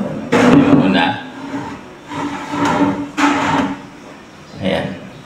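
Wooden drawers in a handleless cabinet with soft-close drawer guides slide and close with muffled thuds and rubbing, several times in a row, while a person talks nearby.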